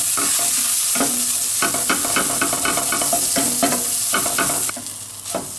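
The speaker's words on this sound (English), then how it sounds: "we want to add the spice paste into it. And we want to fry that off for about a minute or so." Homemade Madras curry spice paste frying hard in a pan, a loud, steady sizzle punctuated by quick, repeated clacks of a spoon stirring against the metal.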